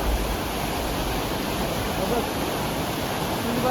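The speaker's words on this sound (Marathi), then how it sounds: "नदीचं पाणी बघा आपरे हे बघा" A river swollen by heavy rain rushes past in a loud, dense, unbroken roar heard close up.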